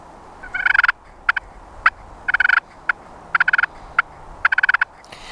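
A pot call imitates a turkey with rapid bursts of clucks and rolling purrs, several clustered runs of sharp notes separated by brief pauses, close and clear with no talk.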